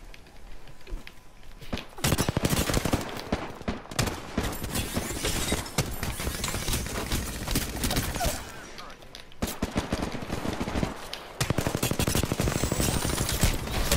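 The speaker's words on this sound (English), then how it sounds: "The enemies are shooting at me." Enemy gunfire in Apex Legends on PS4, with dense bursts of rapid automatic shots and volleys crackling almost continuously over the whole stretch, while a player speaks at times over the shooting.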